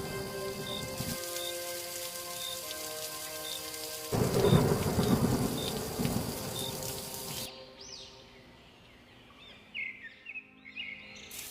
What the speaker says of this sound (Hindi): अगली सुबह बारिश कुछ हल्की थी।